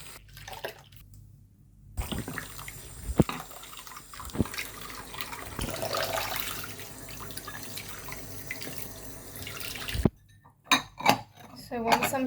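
Scrubbed degu food dishes rinsed under a running tap in a sink, with steady water flow, clinks of the dishes and a few sharp knocks, and quieter handling sounds as the rinse ends.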